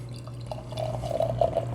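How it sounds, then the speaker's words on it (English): Camp Coolship wild ale glugs from a bottle into a glass in close, gurgling pulses that grow fuller as the pour goes on, over a low steady hum. "So Camp Coolship. Let's give her a pour."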